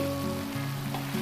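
Kofta gravy sizzles steadily in a pan just uncovered as it gets stirred, a close, even frying hiss with faint humming tones underneath and no talking.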